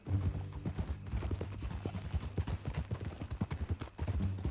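Horse hooves clip-clop at a steady walking pace in a video game, close and fairly quiet, with faint mechanical creaks underneath and no speech.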